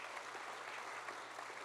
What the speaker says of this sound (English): please give yourselves a round of applause for that